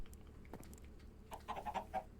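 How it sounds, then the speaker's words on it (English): Chickens in the video game Minecraft cluck in a short run of quick soft calls near the end, faint and close, over low background noise with no speech. "okay, chickens, you make this a little more difficult,"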